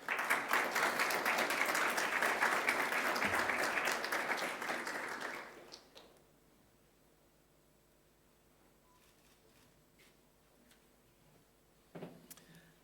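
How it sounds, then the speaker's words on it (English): A school sports awards assembly applauds its netball award winners: a dense crowd of clapping that holds steady for about five seconds, then fades to a quiet room with scattered rustles and a few faint claps. "Round of applause for all our netball players."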